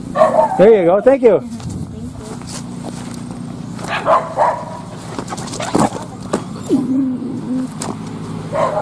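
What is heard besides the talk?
dog barking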